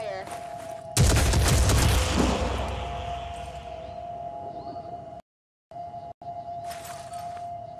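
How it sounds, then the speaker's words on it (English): A sudden loud burst of rapid gunfire from the video game Phoenix Point erupts and keeps rattling for several seconds, then settles into a steady background hum with brief dropouts. "Opening fire."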